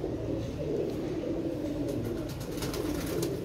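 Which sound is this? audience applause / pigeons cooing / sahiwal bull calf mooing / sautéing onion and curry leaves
pigeons cooing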